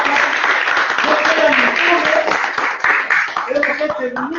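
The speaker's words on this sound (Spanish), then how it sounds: "Le vamos a dar la bienvenida con un voto de aplausos a la hermana de Puno" Audience at a press conference in Peru applauding, dense sustained clapping filling the room from start to end, with voices faintly beneath it.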